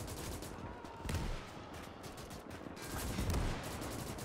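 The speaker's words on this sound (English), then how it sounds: "And he's getting hit by bazooka fire" Sustained battlefield gunfire with scattered blasts in the WWII strategy game Gates of Hell: Ostfront, as bazooka rounds strike a Panther tank; dense, continuous crackling volleys with heavier booms around the one- and three-second marks.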